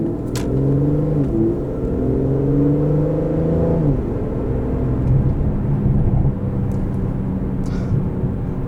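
An Aston Martin DB11 with a 5.2 liter V12 revs up in a rising howl that then falls away, heard loud from the cabin, with faint crackling exhaust pops as it settles.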